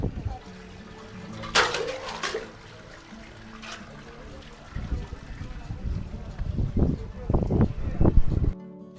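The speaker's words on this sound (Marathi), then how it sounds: "पाणी आहे पाणी काढ रे" Water being drawn from a small well near the Kalsubai peak trail: sloshing and splashing pours, with a sharp splash early and a burst of watery gurgles toward the end, over quiet outdoor ambience.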